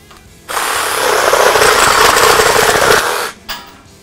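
A Bosch sabre saw runs at about 2,500 strokes per minute with a 32 mm stroke, a loud close buzzing rattle lasting about three seconds before cutting off, then a brief blip.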